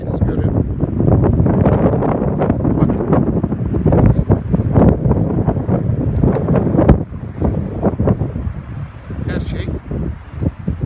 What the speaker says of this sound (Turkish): Nasıl bir rüzgar var.